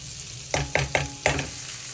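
Whole spices fry in butter and a little oil for homestyle butter chicken, a soft steady sizzle punctuated by four sharp spoon taps and stirs against the pan, up close and without speech.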